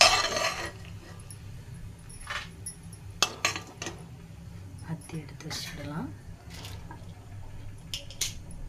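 Fried dried red chillies being scraped from a pan and tipped into another vessel, giving scattered light metallic clinks, taps and scrapes, close and fairly quiet.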